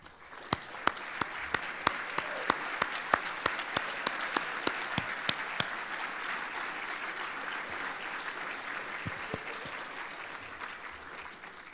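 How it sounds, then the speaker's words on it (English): Indoor audience at a Boy Scouts of America awards ceremony applauding past award recipients, with many sharp individual claps standing out early and then settling into a steady, moderately distant round of clapping. "If all members here could please stand and accept our applause"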